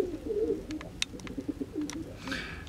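A pair of white pigeons coo steadily in low, throaty, rolling phrases, close and fairly loud, with a few sharp clicks and a brief flutter near the end; no talking.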